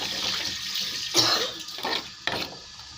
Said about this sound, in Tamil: அதுக்காக தான் நான் இந்த தண்ணியை இதில் ஊற்றுறேன்.